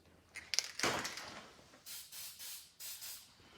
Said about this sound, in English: I got some of this copper spray gasket. I'm just going to coat the top here.